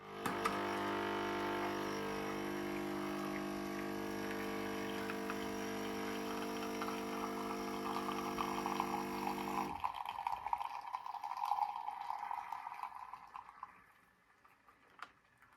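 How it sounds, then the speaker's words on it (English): A Nespresso machine brewing a L'or Caramel espresso shot gives a steady, loud pumping hum with liquid flow for about ten seconds, then cuts to a softer trickle and hiss that fades out, with no voices. "Let's get this first shot of espresso poured, then we'll pour the second."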